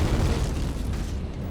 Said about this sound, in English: This caused an absolutely vast explosion, creating a 30-mile-high fountain of magma, dust, and ash.